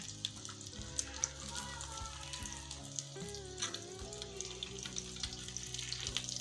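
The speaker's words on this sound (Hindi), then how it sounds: "ये देखिए, अभी हो रही है टिक्कियाँ फ्राई।" Potato patties (aloo tikki) frying in a pan, giving a steady close sizzle with light clatter and tonal background sounds layered over it.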